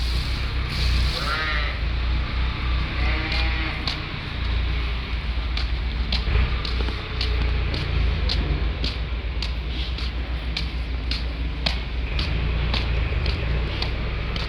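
Sheep bleat at intervals over a steady low rumble of wind or engine noise, with sharp clicks scattered throughout; the bleats are fairly near but partly buried in the background.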